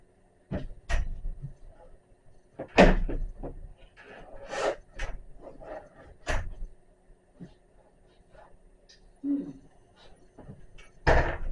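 Scattered knocks, thuds and wooden creaks as a door is handled and shifted while being hung, irregular bursts separated by quiet pauses.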